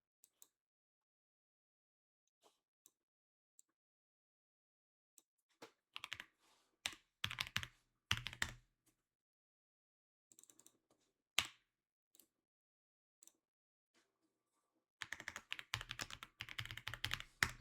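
Typing on a computer keyboard during a live trading session: soft scattered keystrokes, then short clusters of quick clicks and a dense burst of rapid typing near the end, close and quiet with no talk.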